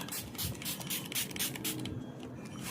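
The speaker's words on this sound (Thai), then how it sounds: "หลังจากนั้นให้เราฉีดสเปรย์ ป้องกันสุนัขและแมวฉี่ครับ" Anti-urine repellent spray for dogs and cats is sprayed in a rapid series of close, breathy hissing bursts, continuous and textured, with no voices.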